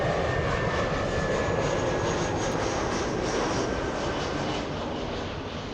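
A jet airliner on approach to land at LAX gives off a steady, loud engine roar that holds for several seconds, broadband and continuous, with a faint whine running through it and no speech.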